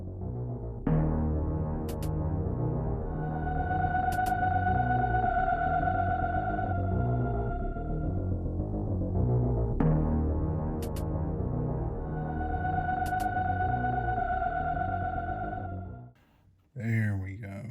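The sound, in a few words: fan noise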